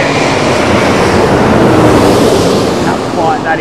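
An Airbus A330-900neo airliner with Trent 7000 engines passes low overhead on arrival at London Heathrow, a loud continuous broadband roar of jet noise that fills the whole clip with no talking.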